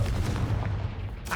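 A Confringo fire spell bursts in Hogwarts Legacy, a short booming blast with a crackling tail, loud and close, followed by a brief sharp hit.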